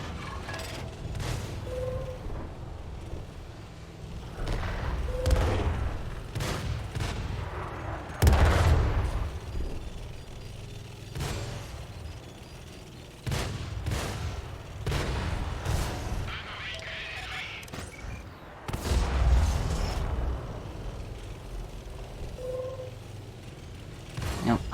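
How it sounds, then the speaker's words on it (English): Artillery fires in a tank video game as a series of deep booms and sharp shots at irregular intervals. A few blasts land louder and closer, over a low rumbling background. "I do not want to deal with the artillery shooting at me."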